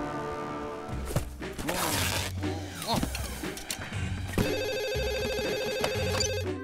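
A cartoon telephone rings with a steady, repeated electronic trill through the second half, after a few thumps and a short crash, with cartoon voices heard early on.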